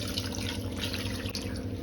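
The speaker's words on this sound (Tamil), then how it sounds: "அதனால கொஞ்சம் தண்ணி ஊற்றிக்கிறேன்" Water is poured into a pot of sambar while cooking, making a soft, continuous trickle and splash that stays faint and steady throughout.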